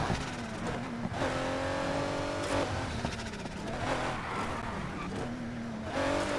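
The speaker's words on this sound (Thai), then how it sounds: "เสียงเทอร์โบเลยอย่าง" A Ford GT engine in the racing game Need for Speed Heat revs and shifts continuously with rising whines and a rushing turbo whoosh, loud and close, no talking.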